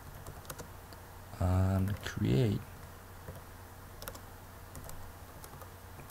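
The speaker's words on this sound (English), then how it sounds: "Why am I typing?" Keyboard typing during an Android programming tutorial: a short burst of key clicks between and beneath a man's spoken words, faint and close, with a few scattered taps afterward.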